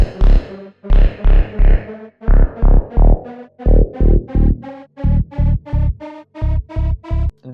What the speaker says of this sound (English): So in this case I have this Psytrance bass which sounds like this.